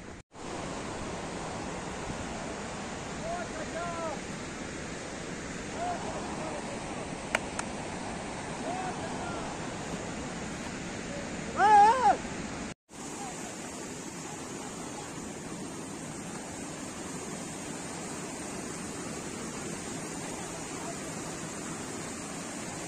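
Steady rush of a fast mountain stream fed by Tarsar Lake in Kashmir, a continuous broadband roar close by that holds level throughout, with a brief clatter midway and a short cut before it resumes.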